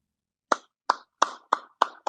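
Six slow, evenly spaced claps, each a single sharp hit with silence between them, quiet and close by.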